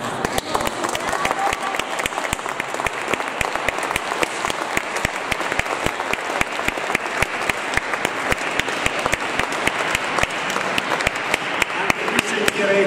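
Sustained audience applause at a sacred music concert with piano and choir, dense even clapping throughout with scattered sharp individual claps and a faint crowd murmur.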